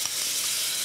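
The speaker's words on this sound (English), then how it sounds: "Sorry, this is going to sizzle." Glaze for custard-filled buns sizzles in a hot pan, making a steady, bright frying hiss that is close and fills the whole short moment, with no voices.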